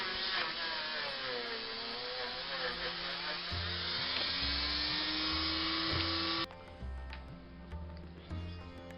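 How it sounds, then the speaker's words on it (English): A small rotary polishing tool whirs steadily up close while buffing the hubcaps on a Dinky toy car wheel, its pitch shifting under load. It cuts out partway and a lower motor hum carries on. "I'm polishing up the hubcaps on the Dinky wheel"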